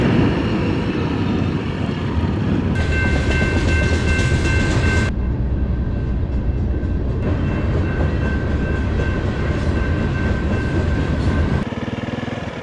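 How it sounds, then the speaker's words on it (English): A train rolls through a small high-desert town, a loud continuous rumble with clattering wheels and sustained horn-like tones, heard up close for several seconds without talk. "All right, we got a train rolling through town."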